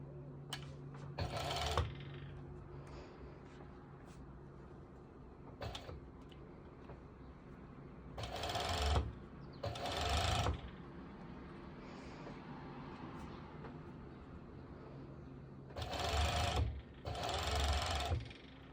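A serger overlocking fabric for activewear shorts runs in several short, loud whirring bursts of a second or two each, separated by quieter pauses with faint handling noises.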